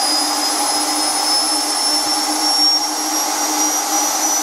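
A vacuum cleaner motor with worn bearings runs loud and steady, a high whining roar with thin tonal whistles slowly drifting in pitch as it is driven until failure.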